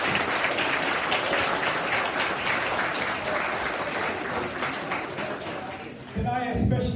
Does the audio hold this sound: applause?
yes